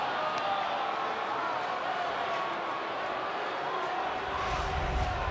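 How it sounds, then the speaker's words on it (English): A baseball stadium crowd at a Padres at Cubs day game gives a steady, broad murmur and roar that rises slightly near the end, heard at a distance as a continuous wash. "It's a reaction from the crowd,"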